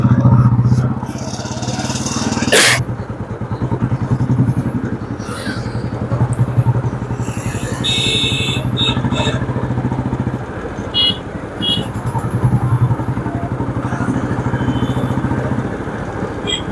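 An old-model Royal Enfield motorcycle rides along with a steady low thumping engine note, close and continuous, with a sharp knock early on, some scattered clatter and road noise, and someone talking over it.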